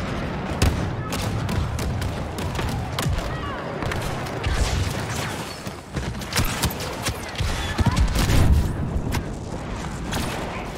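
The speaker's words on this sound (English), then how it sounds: "Mortar strike requested." A mortar strike in Star Wars Battlefront 2, heard as a dense battlefield wash of repeated booms and thuds with gunfire that runs throughout and peaks near the end.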